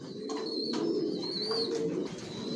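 Racing pigeons coo inside a loft where breeding pairs sit on eggs, a steady soft murmur of overlapping throaty calls with a few higher chirps, close and alone without talk.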